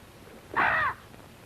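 A single harsh bird caw sounds once, brief and moderately close, over a quiet background.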